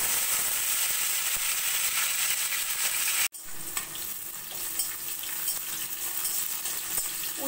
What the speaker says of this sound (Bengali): প্রথমে আমি উচ্ছেগুলো ভেজে নেব।